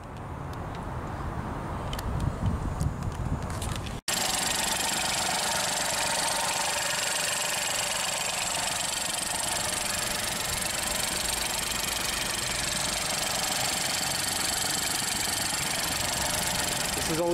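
A 2018 Ford EcoSport SE with a three-cylinder engine settles into a steady, close idle with a slightly uneven, knocking pulse after a few seconds of quieter background sound.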